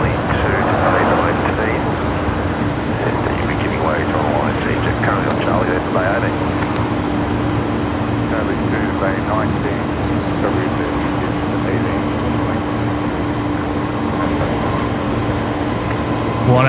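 Airliner on the runway at Brisbane Airport at night, a steady distant jet roar and hum with a constant engine tone, with people chatting and air traffic radio chatter over it.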